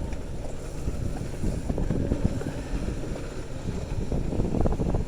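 A Carolina Skiff boat idles slowly while trolling in the rain, a low steady motor rumble mixed with patter and wind buffeting on the microphone, fairly quiet throughout.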